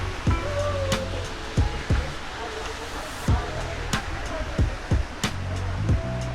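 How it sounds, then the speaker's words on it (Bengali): Shuvolong waterfall in Rangamati, a continuous rushing water roar heard up close, overlaid by repeated sharp knocks and thumps at irregular intervals. "এটা হচ্ছে শুভলং ঝর্ণা"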